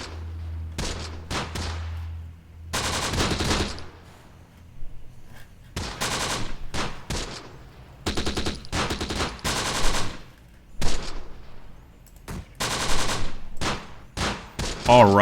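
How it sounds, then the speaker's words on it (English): Machine gun volleys in the video game Close Combat: The Bloody First rattle out in repeated loud bursts, rapid fire broken by short pauses, with no talking. "Got a nice volley going on the enemy. Nice machine gun volley."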